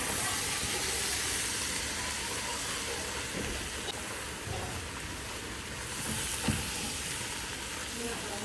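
Onion, celery and green pepper fry together in a pot for gumbo, giving a steady, dense sizzle throughout with a few soft stirring knocks, and no talk over it.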